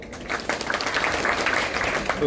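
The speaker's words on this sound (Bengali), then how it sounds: "সবাই ওনার জন্য একটা হাততালি দেই।" A group claps for a newly hired hafiz taking a helper job at a garment factory, a steady burst of applause lasting a couple of seconds with a voice talking over it.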